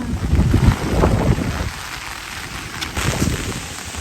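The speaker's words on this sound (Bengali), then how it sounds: "আবার এসে গেল বৃষ্টিটা জোরে" Heavy rain pours down outdoors near farm fields during a storm, a steady close wash of hiss that is louder at first, eases slightly, then swells again.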